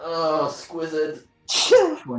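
A single sharp sneeze bursts out during a tabletop role-playing session, surrounded by people talking.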